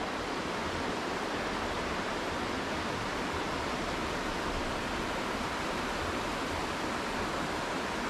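Steady rushing water flows continuously with an even, hissing texture, fairly faint and with no other sounds or voices, recorded mid-river at the Chernorechenskoye reservoir in Crimea on a windless day.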